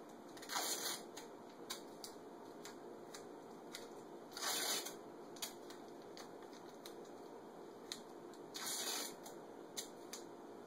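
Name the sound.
masking tape being pulled and torn into strips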